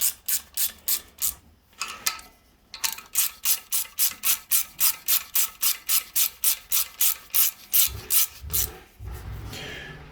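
A torque wrench set to 10 newton meters clicks repeatedly while tightening a fastener on a Polaris Ranger 570 EFI during a gearbox refit, giving a close, steady run of sharp ratcheting clicks with a few brief pauses and a heavier knock near the end.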